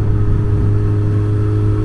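Motorcycle engine drones at a steady, loud cruising pitch on a ride along sweeping bends through the Yorkshire Dales, with constant low rumble and wind noise and no talk.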